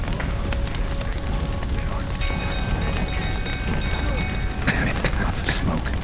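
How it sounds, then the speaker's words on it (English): Steady rain in The Witcher 3 during a burning-barn rescue, a constant hiss of falling water with faint rumbles and scattered clatter beneath a dense game soundscape. "Looks like rain."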